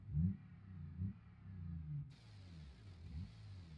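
A Toyota 4Runner engine in the BeamNG driving game turns over and revs in several low, rumbling swells, fairly quiet and with no talking.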